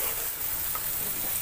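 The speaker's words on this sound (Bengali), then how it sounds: "মশলা কষাতে কষাতে তেলটা উপরে উঠে গেছে" Spice paste for a Bengali prawn bhuna frying in oil, cooked down until the oil separates: a steady, close, broadband sizzle that holds even and unbroken throughout, with no voices.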